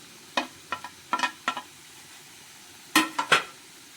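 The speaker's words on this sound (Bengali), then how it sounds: "এখানে আমি পেঁয়াজ আর কাঁচামরিচটাও দিয়ে দিচ্ছি" Chopped onion and green chillies dropped and stirred in a pan of vegetables for fried rice, giving short scraping, clinking strokes in two bursts with a soft background sizzle, close and fairly quiet.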